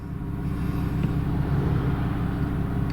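2006 Porsche Cayman S engine pulling hard under acceleration toward 6,000 RPM, a steady, loud, low drone from inside the car that holds its level without a break.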